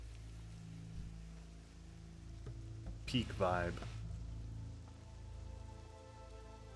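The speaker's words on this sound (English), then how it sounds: "I like it when it rains in WoW." Steady rain patters as ambience in the World of Warcraft video game, a soft continuous wash throughout, with a brief spoken remark partway through.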